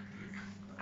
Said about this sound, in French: Maintenant que ça a aboyé en plus.